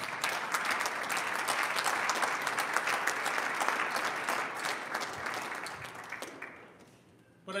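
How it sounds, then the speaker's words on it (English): An audience gives sustained, full applause for a lacrosse coach at a Hall of Fame induction ceremony. The clapping holds steady for several seconds, then thins and fades near the end. "I'd like to give you a round of applause for all you've done for lacrosse"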